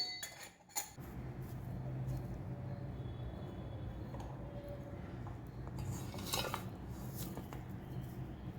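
A star-shaped metal disc is fitted into a murukku press, giving a few sharp metallic clinks and scrapes against a steady low kitchen hum, with a louder clatter near the start and another toward the end.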